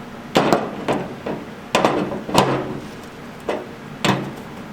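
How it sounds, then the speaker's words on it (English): A hammer strikes a 6AN fitting on a Malibu car about seven times in an irregular rhythm, each sharp metallic knock close and loud, with quiet gaps between. "So now we gotta use our any size hammer to tighten this fitting."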